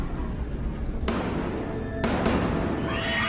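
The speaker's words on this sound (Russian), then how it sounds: "А, стрельба" Two or three sharp, loud bangs ring out about a second apart, each with a brief trailing echo, over a steady background hum.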